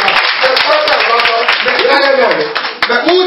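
A church congregation applauds the Lord, with loud, sustained, dense clapping from many hands close by while voices call out over it.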